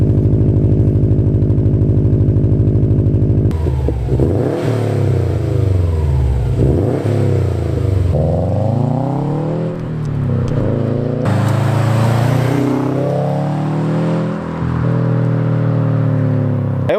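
Race car engine sounding aggressive in a garage, a loud steady idle that breaks into repeated throttle blips, the revs climbing and falling several times with a deep, rough tone that stays close and alone throughout.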